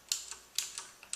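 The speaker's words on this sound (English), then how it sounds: "when you depress a key, it makes an explicit clicking sound" Das Keyboard Model S Professional with clicky Cherry MX Blue switches, keys pressed in a few crisp, sharp clicks spaced irregularly, close and isolated.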